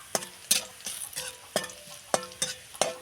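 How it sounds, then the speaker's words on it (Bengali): Onions frying with cumin in a pan, a soft sizzle under repeated sharp clinks and scrapes of a spatula stirring at a steady rhythm. "এখানে পেঁয়াজটা একটু ভাজা ভাজা হয়ে গেছে।"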